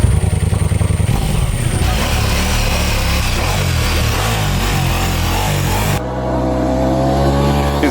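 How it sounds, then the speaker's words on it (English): A 2024 Ducati Diavel V4 motorcycle with a 1158cc Granturismo V4 engine and quad exhaust tips roars loudly and close, its revs rising and surging for several seconds before settling into a steady, high-pitched drone near the end. "This is a Gran Turismo V4 engine,"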